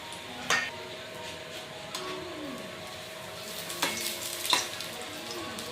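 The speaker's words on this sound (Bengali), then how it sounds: "আর চপ কিন্তু আমাদের লাল লাল করে 2 পিঠই ভেজে নিতে হবে।" Potato chops (aloo chop) fry in hot oil with a steady soft sizzle, broken by a few sharp clinks of a utensil against the pan, close and fairly quiet with no voices.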